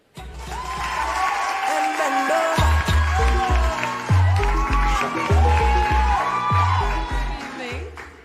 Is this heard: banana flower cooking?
no